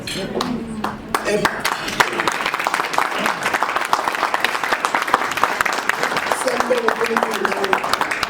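A church congregation applauds a woman named Ayanda, steady dense clapping throughout with voices and chatter mixed in, fairly close and loud.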